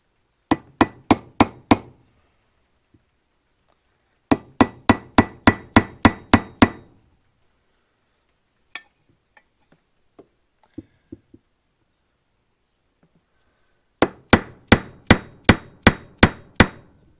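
Crankshaft for a Farmertech G372XP chainsaw driven into the engine cases with a socket and hammer: three close, sharp runs of rapid metallic knocks, six to eight blows each, with scattered light taps between.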